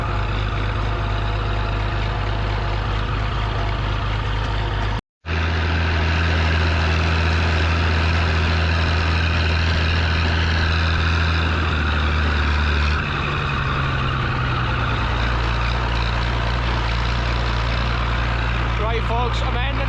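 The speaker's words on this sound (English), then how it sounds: "Look at all these steam engines at the side." Vintage steam engines at the Glamis show in Scotland produce a continuous low mechanical drone with a steady hum, briefly cut off near the start and then resuming with a shift in pitch partway through.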